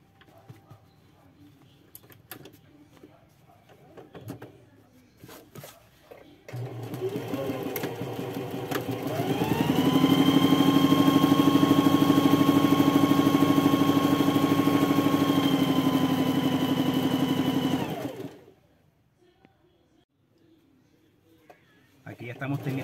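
A sewing machine stitches a closed seam on a double-colour satin fabric cap, a steady whirring hum lasting several seconds with quiet handling noises before and after.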